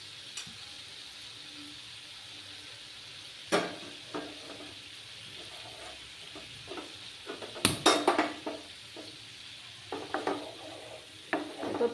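Spice paste with chili powder being stir-fried in a pan for doi begun, a low steady sizzle broken by scattered spoon scrapes and sharp clanks against the pan, close and fairly quiet.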